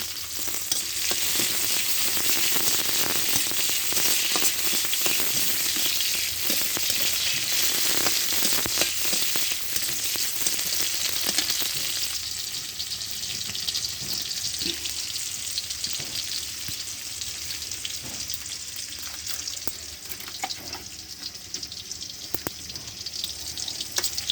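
Panch phoron five-spice seeds hit hot oil in a pan for a crab and taro fry, giving a loud, steady, close sizzle and crackle that runs unbroken throughout, with occasional stirring scrapes and no voices.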